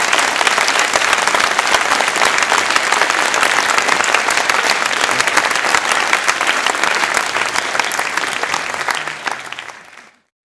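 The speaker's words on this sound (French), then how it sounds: "je vais vous demander de bien vouloir applaudir les régisseurs qui font un travail" A theatre audience applauds the stage managers at a live show in Lausanne, dense steady clapping filling the hall for about ten seconds before cutting off.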